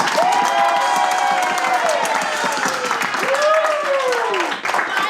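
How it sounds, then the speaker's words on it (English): Audience at an improv comedy show claps steadily throughout, with cheers and whoops rising over the dense applause in a lively room. "Keep clapping."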